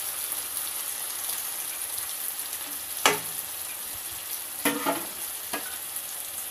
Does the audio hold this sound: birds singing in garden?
no